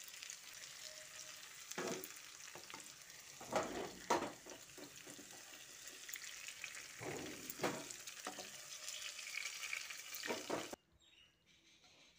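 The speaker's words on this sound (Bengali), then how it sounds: "মাঝে মাঝে ঢাকাটা খুলে নাড়াচাড়া করে 3 থেকে 4 মিনিট ধরে পটল ও আলুটা ভালো করে ভেজে নামিয়ে নিচ্ছি" Pointed gourd and potato fry in oil in a covered pan, a soft steady sizzle broken by several louder clatters and scrapes as the lid comes off and the pieces are stirred.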